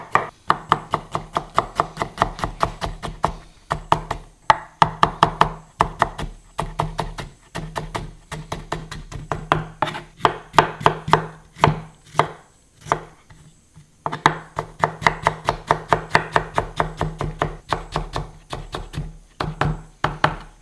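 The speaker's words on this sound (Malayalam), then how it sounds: "ഇനി നമ്മൾ ഇഞ്ചി ചെറുതായിട്ട് അരിയുക," A knife chops ginger finely on a board in quick, even bursts of sharp taps, with brief pauses between runs, close and clear with no talking.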